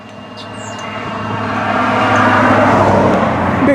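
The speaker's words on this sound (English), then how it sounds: "Big truck was coming by, so I stopped" A big truck passes on a rural road in the Ozarks, its broad rumble swelling from moderate to loud over a few seconds and holding near and heavy toward the end, with no talking over it.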